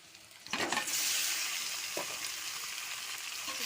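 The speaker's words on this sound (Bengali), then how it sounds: "এর ওপর আমি চিকেন দিয়ে দেবো" Chicken dropped onto onions frying in mustard oil bursts into a loud sudden sizzle, then settles into steady crackling with stirring, close by and with no talking.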